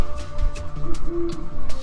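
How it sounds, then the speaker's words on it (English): Owls hooting in a video game, a few soft coos and hoots over a low hum of game ambience, fairly close. "I see the Congress of Owls is assembling."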